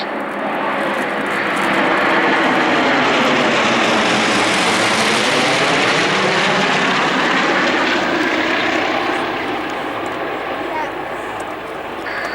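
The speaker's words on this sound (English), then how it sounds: "quite large aircraft. They've gone over in a complete loop with Mark Rixa in the lead" Loud droning propeller engines of the Aerostars aerobatic formation swell as they pass overhead at Cosford air show, holding steady for several seconds before slowly fading, with a voice talking over the roar.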